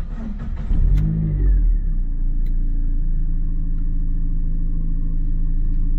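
A Mazdaspeed Miata engine cranks and catches, flaring briefly in a loud rev before settling into a steady, close idle rumble.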